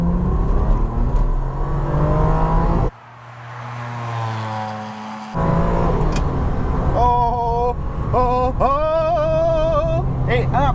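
A Ferrari 550 Maranello's V12 engine roars loudly and continuously, dropping briefly in the middle before revving up again with rising, singing pitch through gear changes.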